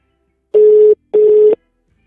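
Telephone ringing with two even electronic tones, each lasting under half a second with a short gap between, loud and close against silence.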